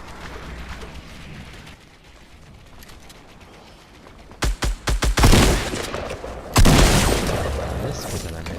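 Gunfire in a battle royale video game: after a quiet stretch, a cluster of sharp, loud shots rings out, then a heavier, sustained burst of fire follows.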